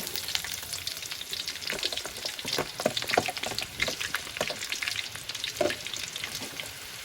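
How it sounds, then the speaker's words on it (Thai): Shallots sizzle and crackle in hot oil for a Thai chili dip with pork cracklings, a steady bright frying hiss with scattered pops and the occasional scrape of stirring, with no talk. "เจียวหอม เจียวหอมเหรอ"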